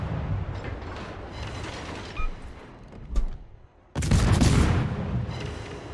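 Naval gunfire in World of Warships, with a steady rumbling barrage and sharp thuds near the middle, then a loud, broad burst of fire in the last two seconds.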